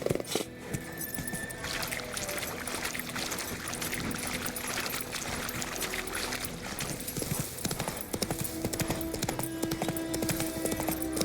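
Horse hooves gallop steadily in The Witcher 3, a dense, continuous clip-clop rhythm up close with game ambience and faint rattling behind, running the whole stretch without pause.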